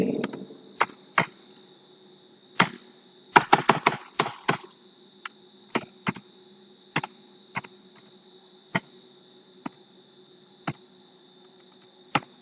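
Someone types on a computer keyboard while entering employee IDs in a spreadsheet, with sparse, close key clicks and one quick burst of rapid keystrokes in a quiet room.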